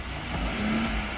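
A Ford Foxbody Mustang stuck in mud holds a steady, low engine drone with the throttle held lightly, rising a little toward the middle, close by and continuous with no talk.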